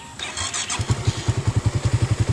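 A Suzuki Raider 150 Fi motorcycle in neutral cranks and fires, a brief starter whir followed by a quick, steady, thumping idle that is close and fairly loud.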